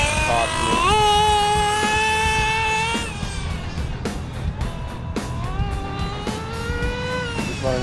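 An HPI Nitro RS4 nitro RC car engine runs with a loud, buzzing, high-pitched whine that rises and falls as the throttle is blipped, close and continuous throughout.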